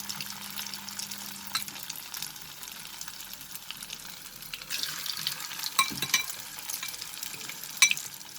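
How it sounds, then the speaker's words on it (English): Cauliflower florets fry in half a cup of hot oil, a continuous dense sizzle with crackling pops and occasional stirring clinks throughout, steady and close with no talking. "half a cup of oil and I'm going to add the cauliflower."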